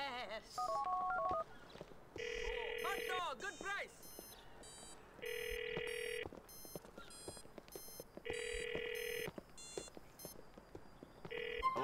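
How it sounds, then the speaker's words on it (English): A phone number is dialed in the video game GTA 4: quick keypad tones, then a repeating electronic ring tone that cycles several times at a steady rhythm. "we're gonna call this number here"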